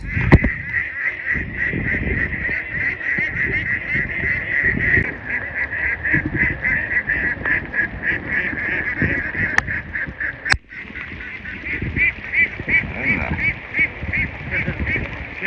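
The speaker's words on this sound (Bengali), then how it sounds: "এতগুলো হাঁস এক দুজন মানুষ কি করে তাড়িয়ে ঘরে ফিরাবে" A large flock of ducks quacks in a steady, dense chorus while being herded home through rain at the Chalan Beel wetland, the calls continuous and close, with occasional voices mixed in.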